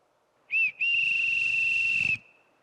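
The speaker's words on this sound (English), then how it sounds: "He didn't used to whistle for us when his wife was alive." A captain's whistle sounds a short shrill blast then a long sustained piercing tone on a stage production, loud and clear with no talk over it.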